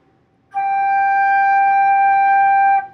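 A flute sounds a single clear, steady G, held about two seconds with a clean start and stop, close and alone.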